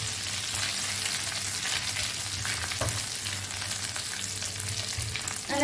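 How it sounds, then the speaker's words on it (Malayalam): Curry leaves, dried red chillies and garlic fry in oil on a low flame for a Kerala-style dal tempering, giving a steady bright sizzle and crackle with occasional louder pops, close up, with no voices over it. "അങ്ങനെ ഞാൻ കറിവേപ്പിലയും വറ്റൽമുളകും വെളുത്തുള്ളിയും ഒക്കെ മൂപ്പിച്ചെടുത്തിട്ടുണ്ട്."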